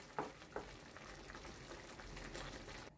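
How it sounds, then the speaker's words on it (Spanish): Tomato for Valencian rice cooking low in a pan, with a faint steady sizzle and bubbling throughout and a couple of soft scraping knocks as it is stirred near the start. "Y así removiendo cada poco, que el tomate tiende a agarrarse"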